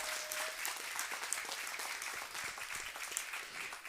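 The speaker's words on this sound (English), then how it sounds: "quick round of applause for making a change and making a difference" Audience applause at a community Thanksgiving dinner, a steady wash of clapping from many hands that holds evenly for about four seconds at moderate loudness.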